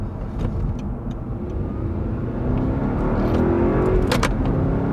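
An Audi R8 V8 with a manual gearbox rumbles with a deep, steady engine note that builds slightly in intensity, heard from inside or near the car with no talk.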